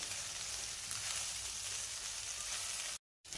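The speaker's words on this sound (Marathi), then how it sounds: "त्यासाठी आपल्याला तेलामध्ये परतून घ्यायची आहे 2 ते 3 मिनिटासाठी" Okra sizzles steadily in hot oil in a pan for restaurant-style masala bhindi, a close, even frying hiss that cuts out briefly near the end.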